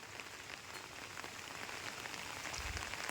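Steady rain falls around an outdoor clay-stove cooking spot, a continuous even hiss of drops on surfaces that swells slightly louder toward the end, with no voices.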